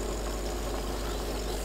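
A UAZ truck engine in the off-road driving game Spintires runs at a steady idle-like drone, a continuous low rumble with a faint knocking texture and no voices.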